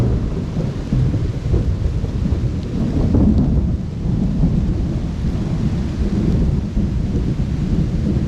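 Heavy, steady rain pours down with a deep rumbling wash, loud and close, with no voices.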